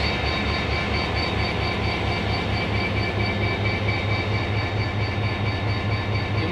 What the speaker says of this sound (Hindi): सेकंड रिबिल्टेड लोकोमोटिव है HGMU30 वाले सारे